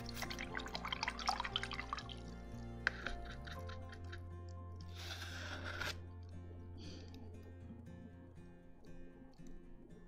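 Water dripping from a squeezed clay drinking cup, a quick run of small close drips and splashes at first, then sparse scattered drops over a low steady hum.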